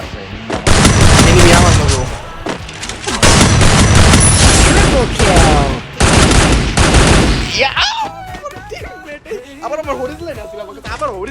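Loud bursts of rapid automatic gunfire in the mobile shooter game Free Fire come in three long volleys, then give way to quieter game sounds and tones.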